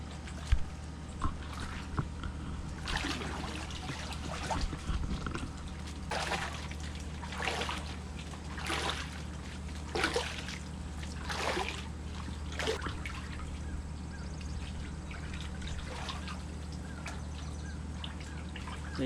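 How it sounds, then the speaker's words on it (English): Underwater brushing along the walls of a small backyard pool, a soft swishing and watery trickle with repeated sweeping strokes, fairly quiet and steady with no talking. "So I'm going to start by and just wipe all these walls down all the way around the pool."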